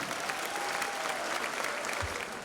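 A crowd of dancers at a Maribor high school graduation ball gives one loud burst of clapping, dense and sustained, briefly fading at the end.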